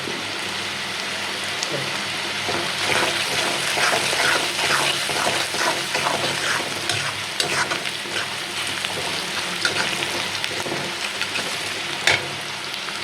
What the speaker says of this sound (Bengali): পেঁয়াজটা ভাজা ভাজা হয়ে গেছে হলুদ দিয়ে ভাজা ভাজা করছি আর আলু